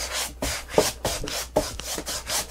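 A hand briskly rubs and wipes sanding dust off a wooden canvas frame on a table, about six dry, close swishing strokes in a quick rhythm with no talk.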